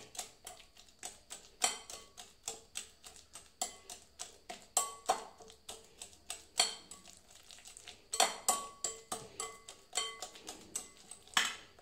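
Banana and bread being mashed by hand in a bowl for a mini cake: a quiet, close series of rhythmic clinks and taps against the bowl, repeating about twice a second with no voices.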